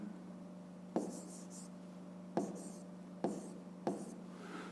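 Pen or chalk writing on paper or board during a Grade 5 maths lesson, four short scratchy strokes at roughly one-second intervals, close and fairly quiet over a steady low hum, with no voices.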